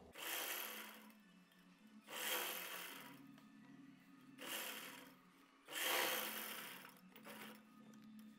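A sewing machine stitches trouser fabric in four or five bursts of rapid mechanical whirring, each lasting about a second, with quiet pauses between them; close and clear, no talking.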